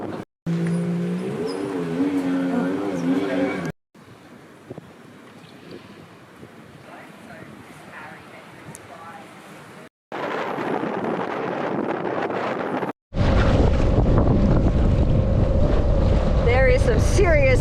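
Strong wind of around 30 knots buffets an anchored boat at San Evaristo, heard as loud gusting roar and microphone wind noise across several cut sections, the final part loudest and harshest.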